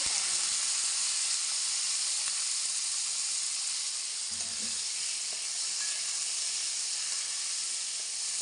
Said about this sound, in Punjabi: ਇਹਨਾਂ ਨੂੰ ਆਪਾਂ ਚੰਗੀ ਤਰ੍ਹਾਂ ਫਰਾਈ ਕਰ ਲੈਨੇ ਆ